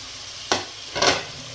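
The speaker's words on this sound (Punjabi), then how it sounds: "ਵਿੱਚ ਦੋ ਤੋਂ ਤਿੰਨ ਜਿਹੜੇ ਪਿਆਜ਼ ਆਪਾਂ ਕੱਟੇ ਸੀ ਉਹ ਐਡ ਕਰ ਦਿੰਨੇ ਆ ਤੇ ਹੁਣ 4 ਤੋਂ 5 ਮਿੰਟ ਚੰਗੀ ਤਰ੍ਹਾਂ ਸੇਕ ਲਗਾ ਕੇ" Onions added to a hot pan for a mutter paneer dish, with two short bursts of sizzling and stirring, the second longer and louder, over a quiet kitchen background with no talking.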